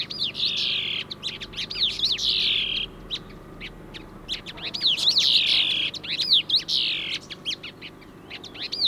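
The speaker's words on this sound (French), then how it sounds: "le chant des oiseaux est juste magnifique" Birds sing on the summit of Thailand's highest mountain, with repeated bright chirping phrases in clear bursts over a quiet, steady backdrop and no talking.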